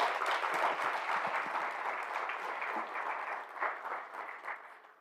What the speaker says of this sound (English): So please give a warm round of applause to the Chief Executive Officer of the Environmental Investment Fund.